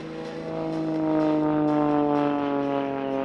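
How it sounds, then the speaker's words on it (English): Extra 330SC aerobatic plane at the Sywell 2024 airshow hovering almost without forward flight, a strong, sustained propeller and engine drone with steady harmonic tones that swells slightly louder and holds, heard from a distance. "she's using the engine to just hover in almost no forward flight whatsoever, just to show the power of that engine propeller combination"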